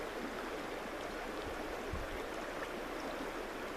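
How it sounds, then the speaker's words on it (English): A flowing river runs in a smooth, continuous rushing wash, close and steady, with a soft low gurgle partway through and no voices. "Hear the sound of the water."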